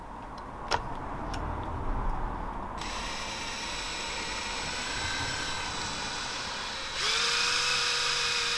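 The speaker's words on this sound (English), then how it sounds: "So you're going to try and drill those out" Power drill boring out seized ignition cover bolts on a Suzuki GS500 motorcycle, a steady close whine with a pitch step partway through and a louder stretch near the end, no talk.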